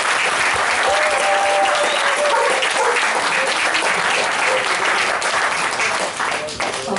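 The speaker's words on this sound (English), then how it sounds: "I'd like you all to give her a round of applause" Loud, sustained audience applause at a panel discussion on cannabis activism and entrepreneurship, dense continuous clapping from a large crowd that holds steady for several seconds.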